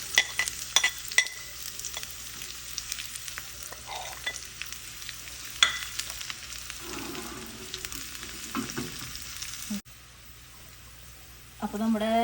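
Shallots, dried red chillies and curry leaves fry in coconut oil with a steady close sizzle and clinks of a spoon stirring, fading briefly before a louder crackle returns.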